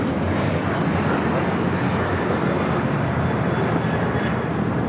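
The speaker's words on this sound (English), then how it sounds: "This is Southwest Airlines 2575 taking off to Chicago Midway on a 737-800." Southwest Airlines Boeing 737-800 taking off from LAX, a loud, steady jet engine roar, dense and continuous throughout, heard close with no talking.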